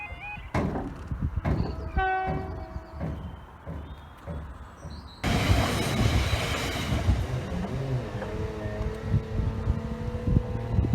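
A train passing Seg Hill level crossing in Northumberland: crossing warning tones sound first, then the train arrives suddenly with a loud, sustained rumble and rattle of wheels and cars, close by, with wind noise throughout.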